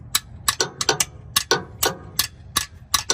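A wrench is tapped to loosen the oil drain plug on a Ford F-150 EcoBoost, making a series of sharp metallic clicks and taps in an irregular rhythm, close and fairly loud, with no talking.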